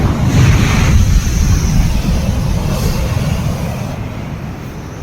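Big sea waves surge and crash on a sandy fishing-village shore, a loud continuous roar of surf with gusty wind buffeting the microphone throughout.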